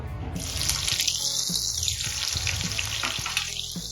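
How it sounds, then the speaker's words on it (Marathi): Onion dropped into half a cup of hot oil in a kadhai on a gas stove for a Nawabi chicken masala, giving a loud, steady sizzle and crackle throughout with a few soft clinks of stirring. "आता ऑइल गरम झालं या स्टेजला आपण कांदा ऍड करून घेऊया"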